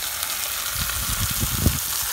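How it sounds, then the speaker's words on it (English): Marinated squid fries in olive oil in a hot pan, giving a loud, close, continuous sizzle with crackly pops and some low stirring thumps, no talk over it. "we've got a hot pan with olive oil on here, and we start off with the frying process"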